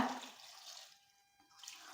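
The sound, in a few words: water poured into pot to boil potatoes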